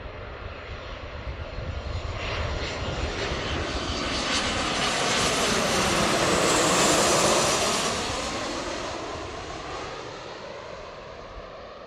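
Jet airliner landing on runway 34 left at Seattle, a steady broadband engine roar that swells to a loud peak as it passes overhead, then slowly fades.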